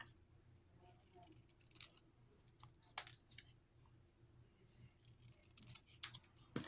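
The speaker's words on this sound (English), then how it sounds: "I'm going to trim it just a little bit." Scissors trim paper for a junk journal spool-of-thread decoration, giving several quiet, close snips and crisp cuts spaced irregularly over a low background hum.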